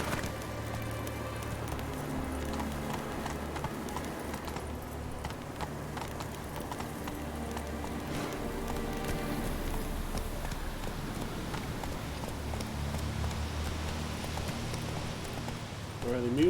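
Roach, the horse in The Witcher 3, gallops with a steady run of clip-clopping hooves that carries on for the whole stretch under game music and ambience.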